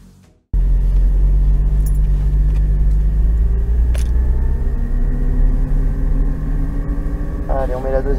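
Onboard sound from a Porsche Cayman GT4 on a race track: a loud, steady engine roar with deep rumble that starts abruptly and holds as the car pulls away, its pitch gradually rising with acceleration.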